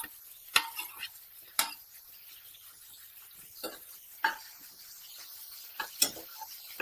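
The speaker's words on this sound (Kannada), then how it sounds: "ನೋಡಿ ಎಲ್ಲ ಒಂದಕ್ಕೊಂದು ಚೆನ್ನಾಗಿ ಫ್ರೈ ಆಗ್ತಾ ಇದೆ" Onion, tomato, chickpeas, pepper, cinnamon and clove fry over a medium flame for a Karnataka-style mutton sambar, with a faint steady sizzle broken by sharp, scattered clinks of a spoon scraping and tapping the pan.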